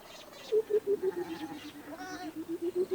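Goats bleat repeatedly near a Maasai elder in an African grazing setting, a run of short wavering calls in steady rhythm, close and clear over a quiet outdoor background.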